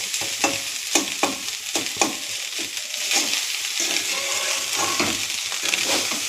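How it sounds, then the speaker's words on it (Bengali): Fish coated in cumin, coriander, turmeric, salt and egg frying in mustard oil, a steady bright sizzle broken by several sharp spatula scrapes and stirs near the pan. "ভেজে দিলাম মাছটা"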